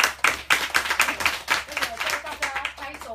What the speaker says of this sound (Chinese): 请大家拍拍手欢迎诗慧